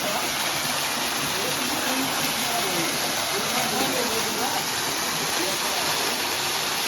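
A hidden waterfall in Kawasoti roars as a steady, unbroken rush of falling water, loud and close with no pauses.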